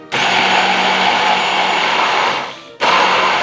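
A kitchen blender whirring loudly as vegetable oil is emulsified into a green sauce, a steady close-up motor roar that dips and stops briefly, then starts again at full power.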